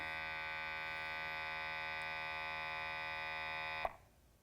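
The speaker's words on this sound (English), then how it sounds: "testing the pump" Steady electric pump hum from a GEM2000 landfill gas analyzer during its power-on self-test, a constant buzzing drone with dense harmonics that runs unbroken for nearly four seconds before cutting off abruptly, leaving faint residual hiss.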